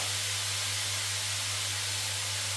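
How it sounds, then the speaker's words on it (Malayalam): Onions sautéing with a pinch of salt in a pan give off a steady, even sizzling hiss that stays constant and close throughout, with a low hum underneath and no one talking. "അടുത്ത പരിപാടി നമ്മളെ സവാള വഴറ്റുക എന്നുള്ളതാണ് ഞാൻ ലേശം ഉപ്പിട്ട് കൊടുക്കുവാണ്"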